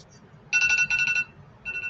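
An electronic alarm clock goes off with bright, rapid beeping in two short bursts, a pause between them, then a third burst starting near the end; no one speaks.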